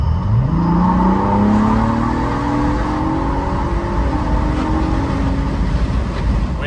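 A Ford Bronco Raptor engine fitted with an S&B cold air intake, heard with the windows down as it accelerates, the rising engine note climbing through the gears, loud and close, with no talking.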